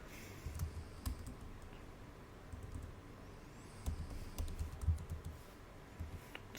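Keystrokes on a computer keyboard as a gcloud command is typed, soft irregular clicks in short bursts with brief pauses, fairly quiet and close, with no talking.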